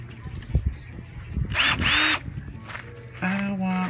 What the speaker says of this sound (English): let's go ahead and let's drive this old screw in a little bit more and hang up the house